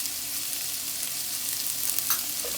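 Onion frying in a pan for spaghetti bolognese, a steady close hiss of sizzling oil with a faint stir near the end.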